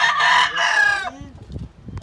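A green legged sweater gamefowl rooster crows loudly and close, one long strained call that trails off into rustling and faint background noise.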